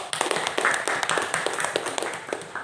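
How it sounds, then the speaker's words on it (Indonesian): A classroom of students claps for a presenting group, brisk and fairly close hand claps from a small crowd, dense at first and gradually tapering off. "Oke, tepuk tangan untuk kelompok 1."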